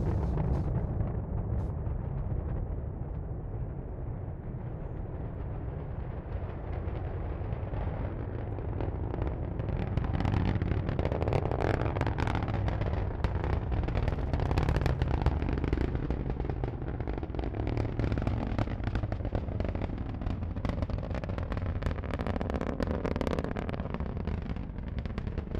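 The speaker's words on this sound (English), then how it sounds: "Let's listen to the roar of those 9 Merlin engines." Deep, continuous roar of the nine Merlin engines on a SpaceX Falcon 9 lifting off with Galileo navigation satellites, heard from a distance and building into a rumbling, crackling thunder that stays loud throughout.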